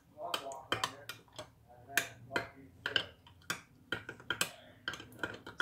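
A utensil stirring a tuna noodle casserole mixture with mushroom soup and milk gives sharp, irregular clicks and taps at close range.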